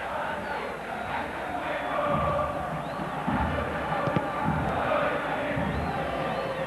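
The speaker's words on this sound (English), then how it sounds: "the crowd, as you can hear, is not very happy, and they are letting the team know" An unhappy football crowd at a Boca Juniors vs River Plate match in 2003 fills a stadium with a dense, sustained roar that stays loud and steady throughout, with swells of shouting.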